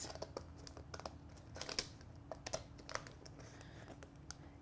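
A blade cuts through a Dollar Tree peel-and-stick tile with a rapid series of quiet crisp clicks, crinkles and scrapes, close by and fairly faint, with no voice.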